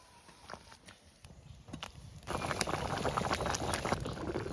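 Water with fried spice paste bubbles in a pan before pangas fish goes in; a quiet broken bubbling with scattered clicks swells into a fuller, denser boil halfway through.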